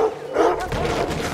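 A dog in the Red Dead Redemption 2 video game barks and snarls while attacking, a short close burst of aggressive yelps and growls.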